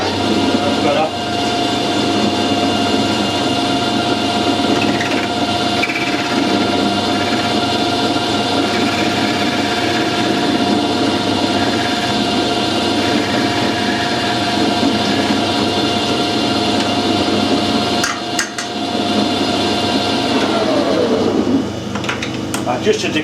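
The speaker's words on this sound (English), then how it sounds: "I adjusted the clutch on the lathe, so now it's stopping like it's supposed to." Harrison lathe running in a workshop with a steady motor hum and whine, then the clutch disengaging and the machine spinning down near the end, heard close.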